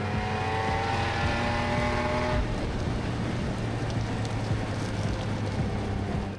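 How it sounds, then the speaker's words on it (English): An off-road car accelerating hard through the gears, rear wheels spinning out, its engine roaring loud and close with a rising whine for a couple of seconds before dissolving into a steady rumble of tires and spraying dirt. "all the way up to 4th gear, pedal to the metal and the whole rear spins out"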